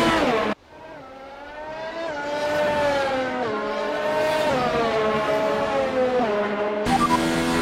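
A race car's worn internal combustion engine in a racing video game screams loudly at high revs, its pitch climbing and dipping through gear changes in a sustained, close whine with no speech.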